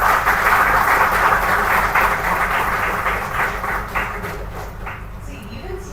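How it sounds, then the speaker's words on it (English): Audience applause at a college hackathon event, dense clapping that is loud at first and gradually fades over several seconds. "So can we all give them a big round of applause?"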